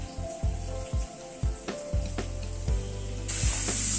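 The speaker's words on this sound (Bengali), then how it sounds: "পেঁপে আর আলুটাকে একটু পেঁয়াজের সাথে একটুখানি নাড়াচাড়া করে নিচ্ছি।" Papaya and potato stirred with onion in a hot pan, producing repeated scraping and clanking strokes about twice a second over a constant frying sizzle.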